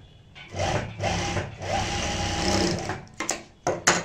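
A sewing machine stitches fabric for a homemade potli (batua) bag, running in several short bursts of close, steady whirring, then ending with a few sharp clicks and taps.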